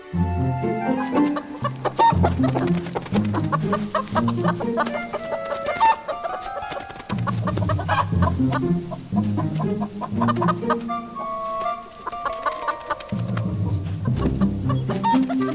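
A flock of chickens clucks busily and continuously close by, overlapping bursts of cackling with occasional louder squawks throughout.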